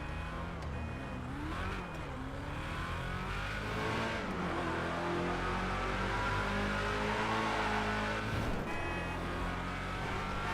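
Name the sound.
1930s hot rod car engine, video game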